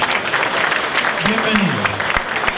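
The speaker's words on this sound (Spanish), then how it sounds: "Vamos a hacer un aplauso para los que vienen por primera vez" Applause from a crowd at a political group gathering in Chile, loud clapping mixed with voices and a brief tonal sound in the middle.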